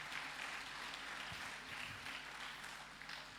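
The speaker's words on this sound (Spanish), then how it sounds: "Dele un aplauso al Señor, entonces." Church congregation applauding together, a steady, dense wash of clapping that fills the hall at moderate loudness throughout, with no voices over it.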